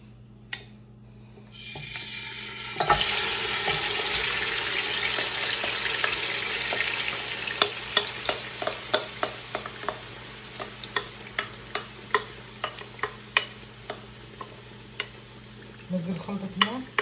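Chicken sizzles loudly in hot oil, a steady crackling hiss with a series of sharp clicks and taps from stirring near the end.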